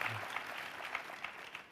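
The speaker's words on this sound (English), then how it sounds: "A round of applause for Team Coco." A studio audience gives Team Coco a round of applause, heard as a faint, steady wash of clapping with a few sharper claps rising out of it.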